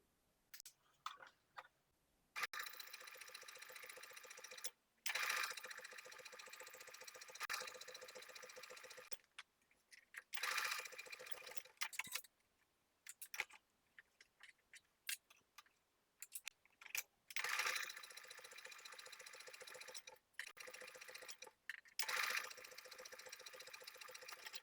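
A sewing machine stitching the interfaced yoke of a knit top, running in several bursts of rapid, fine mechanical ticking and whirring separated by short pauses, close and fairly quiet with no talk.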